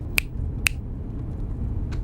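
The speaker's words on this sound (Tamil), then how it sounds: "வேணும்னா இன்னும் 4 சொடக்கு போடுறேன், நீ விழு" Two crisp finger snaps ring out close and loud about half a second apart, followed by a third, softer snap, against a low background hum.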